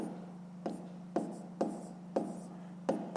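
Short scratchy strokes of a maths calculation being written out by hand, roughly six distinct marks in an uneven but steady rhythm, close and clear over a low constant hum.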